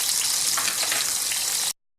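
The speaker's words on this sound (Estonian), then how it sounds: "Siin praeb siis soolapekk." Salt pork and onion frying in a pan, a steady close hiss and crackle of sizzling fat that runs on evenly, then cuts off abruptly near the end.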